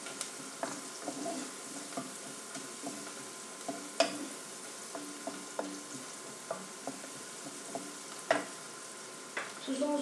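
Garlic frying in a pan for a purslane dish, a steady quiet sizzle broken by repeated stirring scrapes and clicks of a utensil, close and fairly soft, with no talk.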